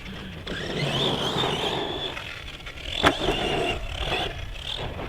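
An electric DHK Zombie 8e RC car running on 4S power with an upgraded servo drives past. Its motor gives a steady high whine with a sharp click partway through, and there is no talking.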